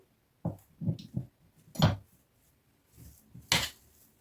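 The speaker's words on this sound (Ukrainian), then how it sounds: "Все добре перемішую" Mashed potato dough with dried garlic being mixed in a bowl, a few soft, close scraping and thudding strokes separated by short pauses, quiet overall.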